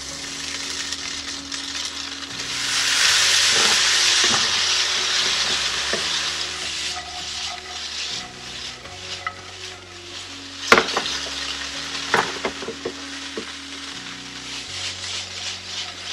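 Boiled couscous is stirred with a sugar mixture in a pan, giving a continuous scraping stir over a soft sizzle, with sharp metallic clinks of the utensil against the pan scattered through the second half.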